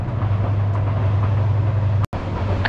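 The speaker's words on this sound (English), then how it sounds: "I can't see the train, I can hear it." The Sylhet to Dhaka express train rumbles past out of sight, a loud, steady low roar with continuous rolling noise and no voices.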